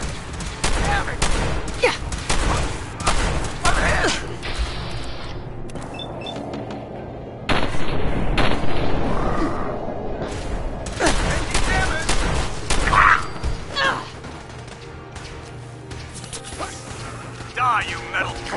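Fallout 4 firefight: bursts of gunfire and sharp impact cracks crowd together near and loud, with brief lulls between volleys and occasional shouts over the shooting.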